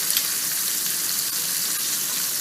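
Steady, crackling sizzle of pork chops frying in a hot pan, close and even throughout with no voices.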